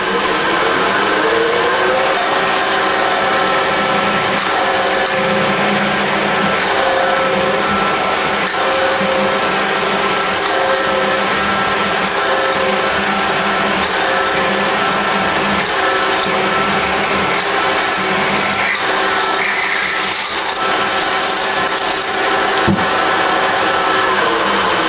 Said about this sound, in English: I'm going to drill a 3/8 hole